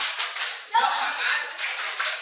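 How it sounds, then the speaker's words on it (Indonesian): A school class doing the rhythmic 'tepuk semangat' clap, a series of close, sharp hand claps in a patterned beat, with voices mixed in. "Coba kita tepuk semangat, bisa tepuk semangat?"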